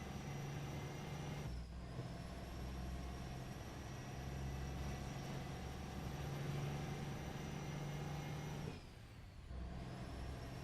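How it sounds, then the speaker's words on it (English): Truck engine in American Truck Simulator idling and running steadily with a low drone, broken twice by sharp hissing bursts of air brakes released, one near the start and one near the end, with no talk. "was the truck sound okay?"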